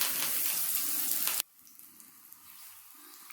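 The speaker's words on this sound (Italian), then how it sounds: "Andiamo a metterlo nella padella che è già con l'olio bollente" Stuffed meatloaf hits boiling oil in a pan with a loud, dense sizzle and crackle for over a second, then drops abruptly to a faint, quiet background.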